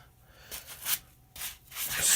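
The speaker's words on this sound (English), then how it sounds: "I'm just going to sit here and just scrub away" Adidas Tubular shoes scrubbed with a brush and Angelus Easy Clean cleaner, giving a few soft, close brushing swishes in short bursts separated by quiet gaps, with no talking.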